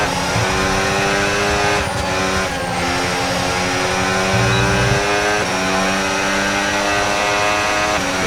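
F1 race cars in the video game F1 26 roar continuously at high revs, with engine pitch shifting through gear changes as the car follows a Red Bull closely.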